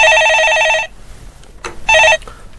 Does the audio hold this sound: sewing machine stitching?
no